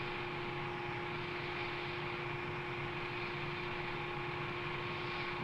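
Cockpit noise of an XV-15 tiltrotor aircraft accelerating down the runway for a short takeoff, a steady loud broadband roar with a constant rotor and engine drone throughout.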